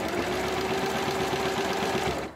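Sewing machine stitching a strap on a fabric shopping basket, a continuous close mechanical whir with a fast steady needle beat, uninterrupted throughout.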